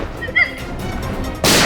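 A single sharp gunshot fired during a tense confrontation in a crime drama, cracking loud and close at the end after a brief stretch of low background ambience.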